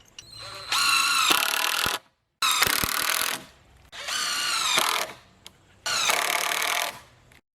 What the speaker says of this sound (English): Just going to screw these 2x4s on with these treated pine screws